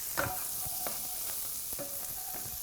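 Garlic and ginger sizzle quietly in a soup pot while being stirred, a faint steady hiss with a few brief scrapes and clinks of the spoon.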